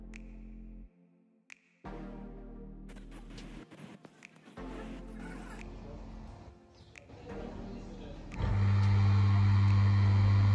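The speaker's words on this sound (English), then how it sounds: "Nevertheless, I'm going to start the pump with the valves in the opposite positions." A pump starts up with its discharge and suction valves set in reversed positions, a low steady hum building into a loud sustained drone near the end after some intermittent mechanical noises.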